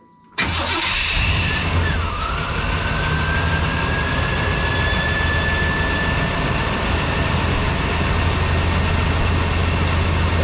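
An OBS truck engine cranks and catches after a fuel delivery fix, then settles into a loud, steady idle with an even rumble and a thin whine running over it, close by and without talk.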